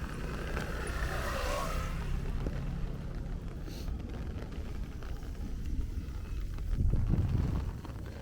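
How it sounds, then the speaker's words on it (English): Strong gusting crosswind buffets the microphone while someone walks in the rain through Sunset Park, Brooklyn, a continuous loud rumbling roar that swells near the end. "I'm getting hit with a lot of crosswind right now"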